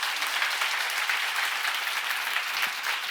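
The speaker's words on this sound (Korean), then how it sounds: "여러분, 복받아서 믿는 사람만 박수 한번 세게 쳐봐" A church congregation claps their hands hard together during a sermon seminar, a dense, continuous burst of applause that stays loud and even throughout, with no voices.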